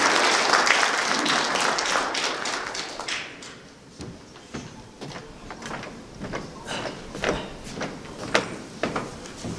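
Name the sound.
audience applause welcoming a speaker at memorial ceremony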